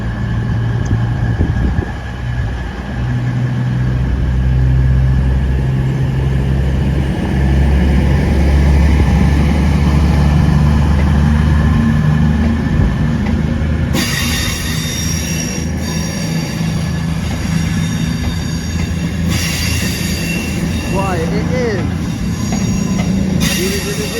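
A delayed CrossCountry passenger service from Oxford to Manchester Piccadilly passes on the Wolverhampton to Shrewsbury line: a loud, steady rumble of wheels on rail with sustained high-pitched squealing, heard up close throughout.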